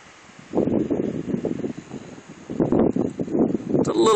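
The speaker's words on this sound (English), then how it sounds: "It's a little bit of a windy day today, so probably there's a little bit of noise there" Wind gusts buffet the microphone in irregular low rumbling bursts, with a faint hiss in the background, outdoors in a residential neighborhood in Frisco, Texas.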